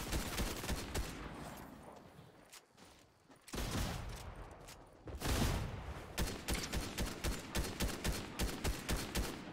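Rapid gunfire in the video game Fortnite, with bursts of loud shots, a short lull, then a fast regular string of shots near the end, heard without talk.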